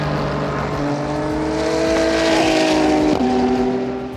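A Ferrari endurance race car at the Imola circuit in a WEC qualifying session, its engine droning steadily with a shift in pitch and a slight fade as it passes.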